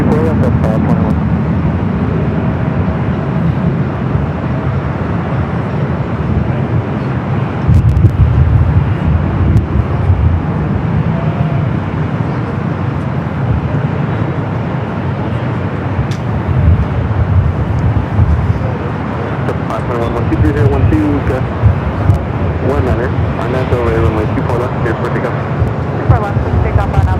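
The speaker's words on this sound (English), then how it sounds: "Delta A319, we got another one. That one that just took off heading to Kansas City." A Delta Airbus A319 takes off from Los Angeles airport: a steady, broad jet roar runs for the whole stretch, with voices talking over it.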